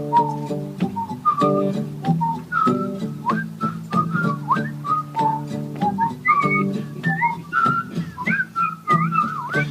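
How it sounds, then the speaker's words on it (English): A person whistles a bright, wandering melody over a steady accompaniment of sustained low chords, with the notes close and clear throughout. "The reason I whistle is because my friends whistle."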